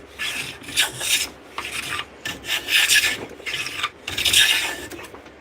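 A hand tool shaving clean oak wood in rhythmic rasping strokes, about six close, scraping passes separated by brief pauses, with no talking.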